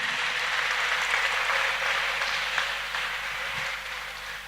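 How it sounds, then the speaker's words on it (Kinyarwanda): A church congregation applauds at a thanksgiving worship concert, a dense, steady roar of many hands clapping together that eases off slightly toward the end. "ndagira ngo twongere Imana amashyi"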